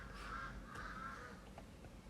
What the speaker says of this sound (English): Damn, these birds.